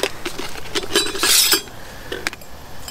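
Small metal camping cook kit pieces clink and tap together, a quick cluster of bright, light metallic knocks close by, with a brief scraping rattle in the middle and no talking.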